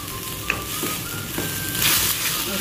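Ginger garlic paste frying for nawabi paneer gravy: a constant close sizzle with a few soft spoon scrapes, swelling a little louder toward the end, no talk.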